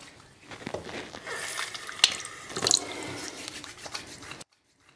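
Tap water splashing and dripping onto hands at a bathroom sink while wetting them before styling short hair with the fingers. It is close and moderately loud, with a couple of sharper splashes partway through, and it cuts off abruptly near the end.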